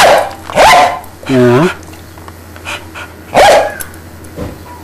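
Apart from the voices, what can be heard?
dog barking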